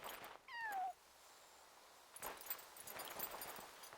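A single short meow from a cat in a cave in the video game Yonder sounds faint and brief, followed by soft, scattered footstep-like taps against a quiet background.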